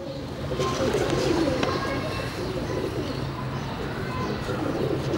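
Daku breed pigeons cooing in a loft, soft low coos blended into a steady busy murmur of birds and surroundings, with some distant voices mixed in.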